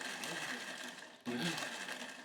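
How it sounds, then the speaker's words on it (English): A countertop blender pulses a jerk marinade in two short, whirring bursts, with a brief stop between them; the motor sounds close and fairly quiet. "Once we put it in our blender, we turn our blender on,"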